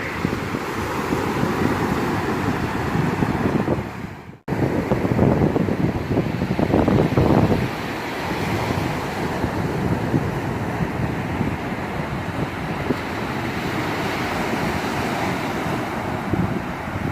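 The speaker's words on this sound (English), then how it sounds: "I know when I do these beach videos, the wind is always wicked loud." Strong wind buffets the microphone at a sunny Florida beach, with surf rumbling underneath in a constant, loud roar, briefly cut by a short dropout partway through.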